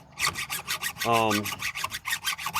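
A hand file stroking across a chainsaw chain, sharpening the cutters in a rhythmic series of short, rasping strokes, close by, with a brief tonal ring partway through.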